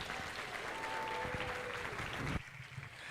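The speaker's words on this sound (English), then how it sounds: "Let's give all 3 of those young ladies a nice round of applause." Applause from the crowd at a junior livestock heifer show in Highlands County, a steady wash of many hands clapping that stops abruptly near the end.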